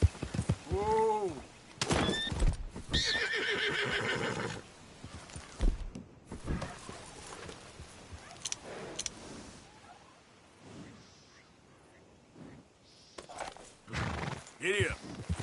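A horse in a PS4 video game whinnies several times and its hooves clop in bursts, with a voice speaking over parts of it between quieter stretches.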